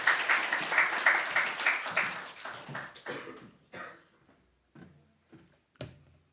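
A church congregation at a Sunday worship service claps to welcome an elder to the front. A few seconds of full applause quickly die down into sparse, isolated claps and small room noises.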